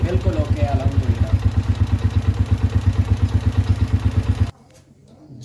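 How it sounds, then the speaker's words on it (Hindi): A Honda CG125 Euro 2 motorcycle engine idles close by with a steady pulsing rhythm and a light ticking from loose tappets, then cuts out abruptly near the end. "ये इंजन का साउंड है दोस्तों, सिर्फ इसके टैपर्स हैं वो लूज है, उनकी टिक टिक की आवाज़ है"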